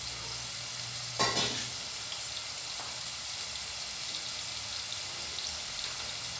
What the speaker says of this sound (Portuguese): Agora eu vou dar uma murchada aqui na cebola